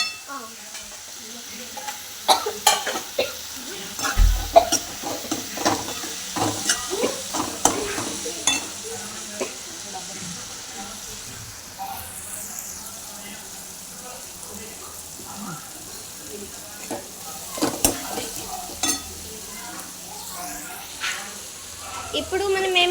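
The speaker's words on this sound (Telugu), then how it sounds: "ఇలా ఫ్రై అవుతూ ఉంటుంది అన్నమాట" Food sizzling and frying in a pan while being stirred, with repeated scraping stir strokes close by over a steady crackle and a voice speaking at times.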